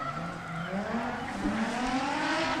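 A drift car at a street-league drift competition, engine droning and rising in pitch while tires squeal steadily through a sliding run, loud and continuous.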